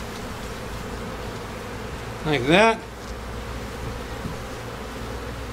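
Honey bees buzz in a dense, continuous drone around an opened hive during a walk-away split, with a brief spoken phrase rising above it.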